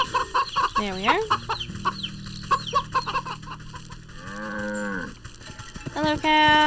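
A cow in the video game Wytchwood gives a long, loud moo amid the clucking of farmyard hens, with game music humming underneath and more bird calls at the end.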